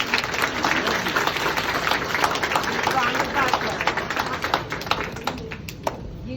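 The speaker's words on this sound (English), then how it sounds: "Give them a big round of applause." Audience applause after a call for a big round of applause, a dense steady patter of clapping across the room that thins slightly toward the end, with scattered sharp claps standing out.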